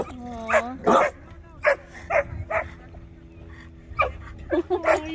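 A puppy barks and yips repeatedly inside a car at a campground, short sharp barks in irregular bursts close by, with a person talking between them.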